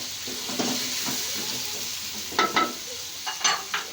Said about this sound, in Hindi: इसके हल्का हल्का फ्राई कर देंगे, बिल्कुल लाइट गोल्डन कर देंगे